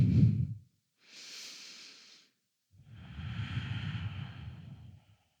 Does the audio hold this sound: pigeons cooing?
no